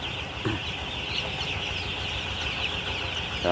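Thousands of chickens in a poultry farm house, a dense background of clucking and chatter with a steady high electrical hum, fairly quiet and continuous.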